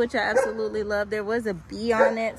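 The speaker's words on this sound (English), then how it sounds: "please excuse the dog, it's my neighbor's dog." A neighbor's dog yips and whimpers in a home garden, close and intermittent, mixed under steady talk from a person nearby.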